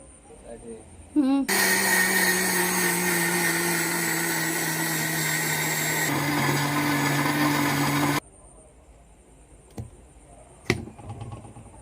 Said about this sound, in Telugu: మిక్సీ జార్లో వేసుకొని పిండి అనేది మెత్తగా పట్టేసుకుందాం